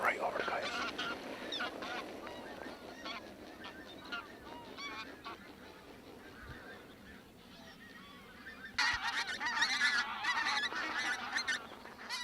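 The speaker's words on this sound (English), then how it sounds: "Here's some real low geese coming now, look." A flock of geese passes low overhead on Orkney during a goose shoot, their honking calls repeating in a ragged chorus. The calls are fairly faint at first and grow louder and denser toward the end.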